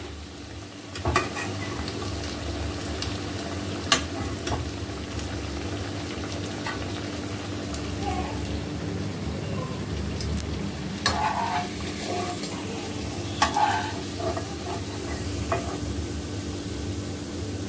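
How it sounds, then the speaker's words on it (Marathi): Coriander fritters (kothimbir vadi) frying in hot oil, a steady soft sizzle running throughout with occasional louder crackles and clinks of a utensil stirring or turning them. "तर अशा प्रकारे मी सगळ्या वड्या तयार करून घेते, तळून घेते."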